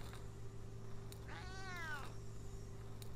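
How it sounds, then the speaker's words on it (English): A cat in the point-and-click game Memoranda gives a single drawn-out meow lasting about half a second over a low steady background hum, with no talking. "And I hear a kitty cat."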